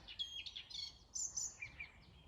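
Small birds chirp and tweet in quick, high bursts, several short phrases repeating faintly at a distance in a quiet outdoor setting.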